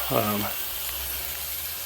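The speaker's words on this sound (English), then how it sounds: "I'm just going to put my chuck in there. Yeah, you can hear it starting to sizzle." A beef chuck roast laid into a hot pan for browning sizzles with a bright hissing burst that settles into a steady, continuous crackle, close and fairly loud.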